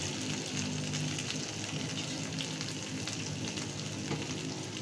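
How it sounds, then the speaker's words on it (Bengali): Potatoes and pointed gourd frying in hot oil in a kadai, giving a constant dense sizzle at moderate level without pauses. "এখন আমি আলু পটলগুলোকে তুলে নিচ্ছি।"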